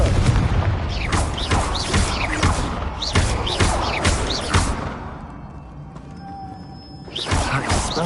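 An explosion spell is cast in a video game: dense booming blasts and crashes pile up continuously, loud and close, with a brief lull before another burst at the end.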